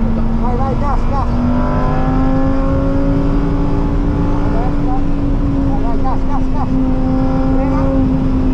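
Lamborghini Huracán at full throttle on the Imola race track, heard from inside the cabin as a loud, steady engine drone with rising tonal whine, while a driving instructor talks continuously over it.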